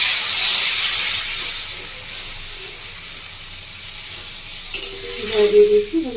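Water is poured into spice paste frying in oil in a pan: a steady, close sizzling hiss, then a short burst of splashing and bubbling near the end.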